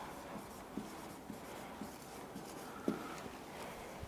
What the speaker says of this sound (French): Alors, je vais écrire « Elle est grande ».